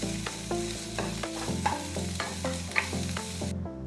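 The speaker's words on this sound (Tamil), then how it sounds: "ஜீரகம் பொரிஞ்சு வந்ததுக்கப்புறம் கொஞ்சம் பச்சை வாசனை போகிற வரைக்கும் வதக்கிடலாம்" Whole cumin seeds sizzle and crackle in hot ghee while a spoon stirs and scrapes the pan in steady strokes, close and continuous, with a few sharper clicks before the sound cuts off.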